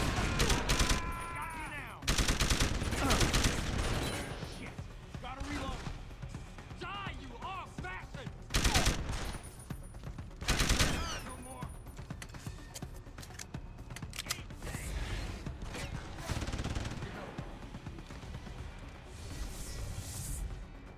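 Gunfire in a fight in the video game Deus Ex: loud shots and bursts of automatic fire come in clusters across the stretch, with quieter pauses between them and game sounds in the background.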